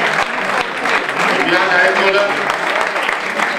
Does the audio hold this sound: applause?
yes